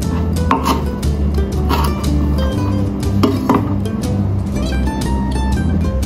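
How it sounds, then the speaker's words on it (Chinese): Fresh coriander being washed and its roots trimmed off in a kitchen: a few sharp knife cuts on a board among loud clattering dishes and clinking utensils, all near and busy. "香菜洗净切除根部部分"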